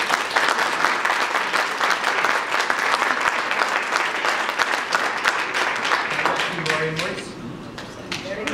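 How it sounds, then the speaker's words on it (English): Sustained applause from a sizable audience at a marketing panel event, dense steady clapping that thins out toward the end. "give them a nice round of applause"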